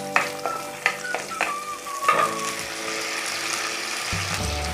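Green chillies fry in hot oil, crackling and spitting sharply at first, then settling into a steady sizzle with scattered pops and a brief stirring rattle toward the end.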